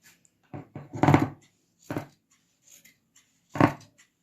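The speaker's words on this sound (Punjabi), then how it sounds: "ਇੱਥੋਂ ਤੁਸੀਂ ਇਸ ਤਰ੍ਹਾਂ ਮੋਢਿਆਂ ਦੀ ਕਟਿੰਗ ਕਰ ਦੇਣੀ" Scissors snip through cloth at the shoulders while tailoring a garment, making a few crisp, close cuts in an uneven rhythm: a quick cluster, then two separated single snips amid near silence.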